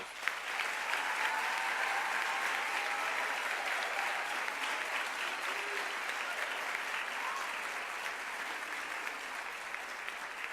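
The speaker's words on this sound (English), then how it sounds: "I'd like you to give them a big round of applause." An audience at a high school valedictory ceremony claps steadily and evenly for over ten seconds, a sustained, moderately distant wash of many hands with no talk over it.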